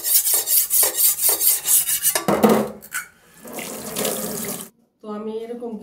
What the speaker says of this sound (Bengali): তো কীভাবে আমি ধার করি সেটা আগে দেখুন।